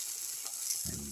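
Black pepper winter melon omelette frying over low heat in a pan, a steady close sizzle with a brief lower crackling burst near the end.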